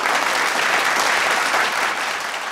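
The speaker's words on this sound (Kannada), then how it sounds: "ಅದಕ್ಕೆ ಚಪ್ಪಾಳೆ ಬೇಕು" A studio audience on a Kannada game show claps in dense, continuous applause, loud and close, holding steady throughout.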